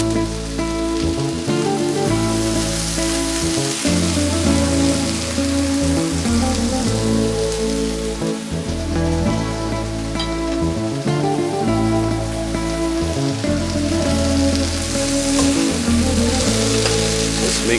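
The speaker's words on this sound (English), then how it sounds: "Let's add the onion and garlic." Onion and garlic frying with beef for a beef paella, a steady loud sizzle with occasional stirring, continuous and close with no voices.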